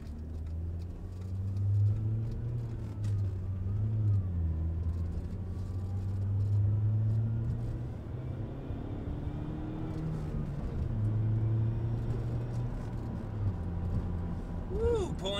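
Turbocharged 1.8T Audi A4 B5 driving and accelerating, a steady mid-to-low engine drone with rising pulls and rumble throughout, with people talking over it inside the car.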